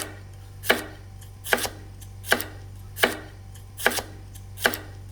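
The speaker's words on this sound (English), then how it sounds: "Slice your peppers." A knife slices peppers on a cutting board for salt and pepper chicken, six crisp evenly spaced chops at a slow, steady rhythm, close and distinct over a low hum.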